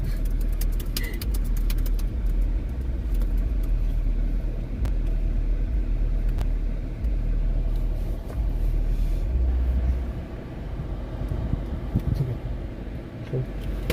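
A car drives along with a steady low engine rumble and road noise filling the cabin, loud and continuous throughout, with occasional thumps and faint bits of talk.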